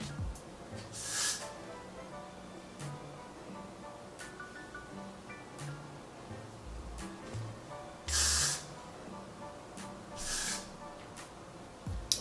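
Gotta Be Glue hairspray sprayed onto hair while styling a ponytail, heard as three short, close hissing bursts spread across the stretch, with quiet handling sounds between them.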